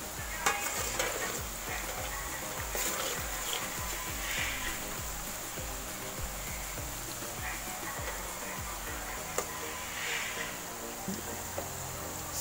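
Banana chips frying in a pan sizzle loudly and steadily while being stirred over and over, with frequent scraping and clinking of the utensil throughout.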